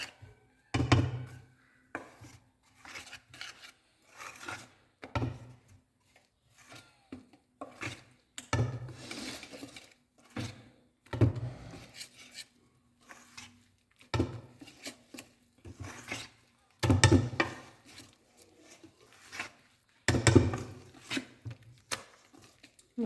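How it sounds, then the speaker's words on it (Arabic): A spoon stirs yeast into raisin and strawberry cake batter in a bowl, making a series of separate scraping, knocking strokes that come every second or two, close up and fairly quiet, with short pauses between them. "غادي نحرك هادشي مزيان"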